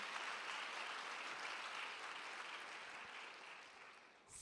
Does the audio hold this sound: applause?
yes